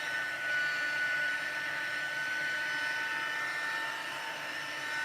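A heat embossing tool blows continuously while drying ink on a stamped card, a steady close whirring hiss with a faint high whine, unchanging throughout.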